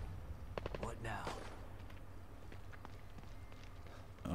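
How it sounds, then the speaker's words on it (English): Gunfire echoes from somewhere off in The Evil Within 2, a few faint, distant shots in quick succession amid low ambient game sound, with a louder thud at the end. "I hear gunfire somewhere."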